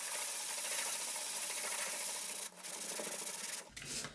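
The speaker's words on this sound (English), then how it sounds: "let's just get on with the sanding" Hand sanding of drywall filler, a steady close scratchy rasp of abrasive on a patched wall, continuous with brief pauses near the end, no talk.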